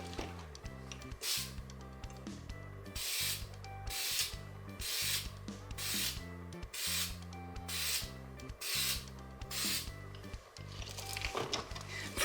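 Aerosol spray coating being applied to a MINI Cooper during general maintenance: repeated hissing spray bursts in a steady rhythm, fairly quiet and close, with no talk over them.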